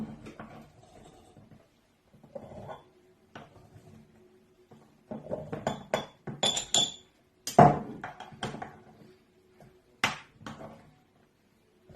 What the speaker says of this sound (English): So just pack the onions inside the clean jar.